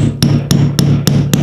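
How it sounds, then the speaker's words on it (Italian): A hammer taps keys into the wooden stretcher of an oil-on-canvas painting under restoration. Five crisp, evenly spaced knocks come about a third of a second apart, close and loud over a low steady hum. "quindi con un martello"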